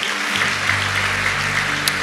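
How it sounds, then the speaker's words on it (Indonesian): A church congregation claps together after a sermon, a dense, loud burst of applause filling the whole short stretch. "Berikan tepuk tangan kita untuk Tuhan kita."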